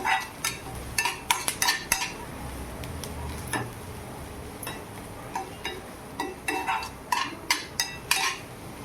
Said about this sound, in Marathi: कांदा आपला चांगला भाजायचा आपल्याला